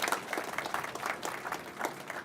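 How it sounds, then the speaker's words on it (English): An audience at a university innovation center ribbon cutting ceremony gives a brief burst of applause, quick uneven claps heard moderately close, with no one speaking over it. "Can we give them all a round of applause?"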